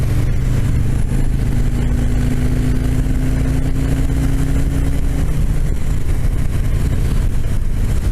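A car engine burbles at low revs, a loud, close, deep rumble that holds steady with a rough pulsing texture and a faint tonal whine partway through.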